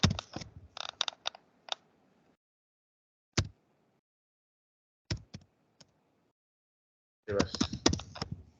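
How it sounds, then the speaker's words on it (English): Computer keyboard typing comes in short clicky bursts separated by silent pauses, close and clear, with one brief spoken word. "Why I am typing like this?"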